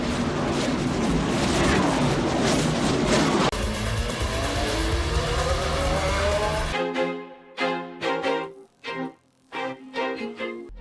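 Racing cars in a movie scene roar loudly at speed for several seconds, followed by a shift into a choppier stretch of intermittent bursts and pauses.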